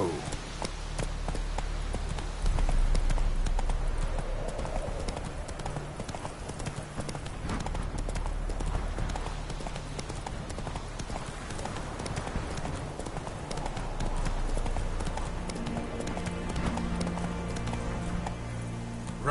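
Roach the horse gallops in The Witcher 3, with close, steady rhythmic hoofbeats pounding continuously over a low ambient game background.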